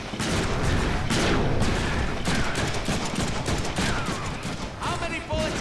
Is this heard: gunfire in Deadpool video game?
yes